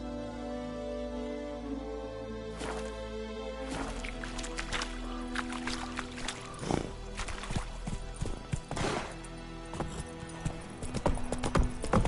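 Horse hooves clip-clop steadily at a gallop in The Witcher video game, a continuous rhythmic pounding with a faint whinny and background game ambience.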